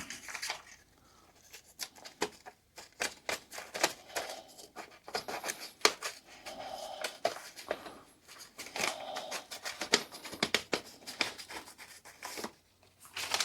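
Repeated sharp snipping and rustling of paper being cut with slightly loose multitool scissors, quick irregular clicks close by, no talking.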